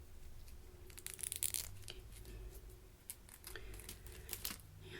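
Hair highlighting foil is handled up close during a soft-spoken binaural haircut, giving quiet crinkles and brief tearing rustles in short bursts.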